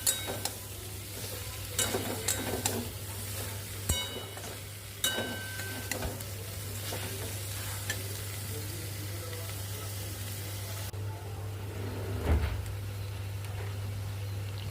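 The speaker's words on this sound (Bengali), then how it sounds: "এবার আস্তে আস্তে এগুলোকে একসাথে মশলাটা ভালো করে কষিয়ে নিচ্ছি।" Spiced steamed taro stolons being stirred and fried in a pan, with soft scraping clicks and faint sizzling over a steady low hum, with a few sharper utensil knocks early on.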